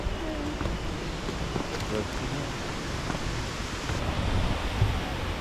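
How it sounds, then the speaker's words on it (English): Sendang Gile waterfall in Lombok, Indonesia gives a steady, broad roar of falling water, continuous and moderately loud, with faint voices now and then underneath. "It's a waterfall. It's pretty amazing."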